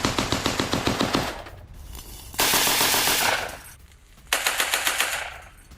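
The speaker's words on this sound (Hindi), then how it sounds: "खार्किव के कुपियांस्क में रूसी फौज की फायरिंग" Russian army gunfire rips through a forested war zone near Kupiansk in Kharkiv, with loud rapid machine-gun bursts, a long sustained roar, then another rattling burst that echoes.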